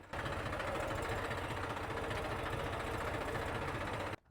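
A steady, heavy diesel tractor engine chugs continuously at close range at an onion market yard in Mahuva, with a throbbing low rumble, then cuts off abruptly near the end.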